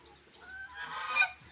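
A single goose gives a short, nasal honk close by, rising to a brief peak and fading within about a second and a half, with no other sounds around it.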